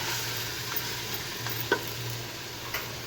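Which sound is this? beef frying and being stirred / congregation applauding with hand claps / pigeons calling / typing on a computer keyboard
beef frying and being stirred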